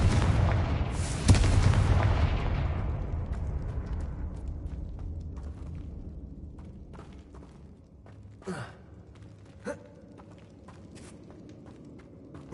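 Fiery blast from a Confringo spell in the Hogwarts Legacy video game: a loud booming burst at the start that rolls off into a long fading rumble, followed by a few faint, sharp later hits.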